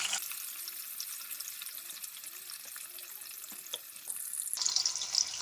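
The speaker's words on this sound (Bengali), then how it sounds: "পনিরের টুকরোগুলো দিয়ে আমি হালকা ভেজে নেব" Paneer pieces frying lightly in hot ghee and white oil, a steady broad hiss that holds throughout and turns louder and brighter near the end, with faint speech-like tones in the background.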